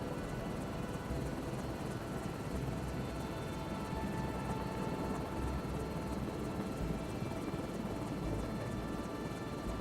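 A helicopter in Microsoft Flight Simulator 2024 thrums continuously, a dense steady rotor and engine wash at constant loudness, with no talk over it.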